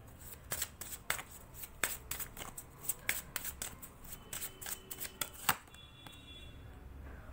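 Tarot cards are shuffled close up, giving a string of crisp, irregular snaps and riffling flutters at a soft level with no talking.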